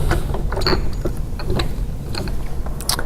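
A standard 9/16 wrench tightening mounting bolts on a Honda HRR mower's CheckMate striping kit, giving soft irregular ratcheting clicks and metallic creaks close up, with no talk.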